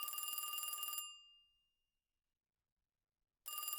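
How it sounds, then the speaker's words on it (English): An old telephone bell rings loudly at a phone booth by a gas station in a video game, one long ring that cuts off and fades, then silence before a second ring begins. "Suddenly, a loud ringing pierces through the air."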